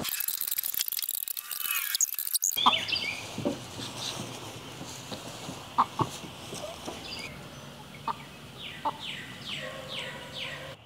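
Chickens cluck and murmur inside a shed converted into a coop, with scattered soft clucks and occasional sharper calls over a quiet background, after a brief burst of louder noise at the start.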